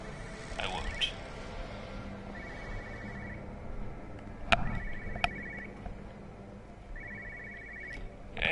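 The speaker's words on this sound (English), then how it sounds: "Okay, so did you guys hear the phone?" Telephone ringing in the Everybody's Gone to the Rapture video game, short electronic trilling bursts repeated several times at a moderate distance, with faint ambient background and occasional clicks.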